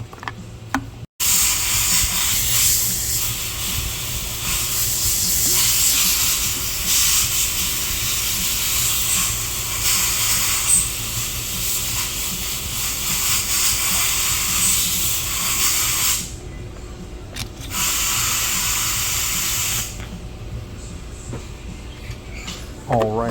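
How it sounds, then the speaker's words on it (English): Canned gas being poured into the fuel tank of a Stihl HT131 pole pruner: a steady, close hiss and trickle of fuel, pausing briefly near the start and thinning out toward the end. "We're going to put a little bit of canned gas in here."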